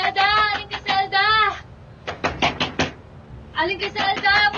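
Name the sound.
pounding knocks on a door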